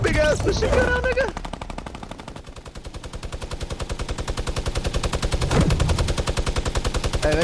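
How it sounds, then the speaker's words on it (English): Sustained, rapid machine gun fire in Fortnite rattles at a fast, even rhythm for several seconds, loud and close, with excited voices heard over the start. "he's got a big ass machine gun on"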